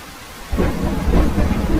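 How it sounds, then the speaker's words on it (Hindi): A cartoon thunderstorm with heavy rain: a soft rainfall hiss breaks into a deep, loud rolling rumble of thunder halfway through, with the downpour continuing heavily beneath it. "बारिश बहुत तेज थी।"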